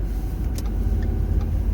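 A car cruises along the interstate in the morning, passing a bucket truck that weaves across the road. The engine and tyre roar is steady and close, with no talk.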